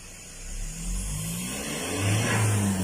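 Engine of a Mazda BT-50 Pro pickup revving in a repair garage, climbing in pitch through repeated accelerations, loud and close with no talk over it.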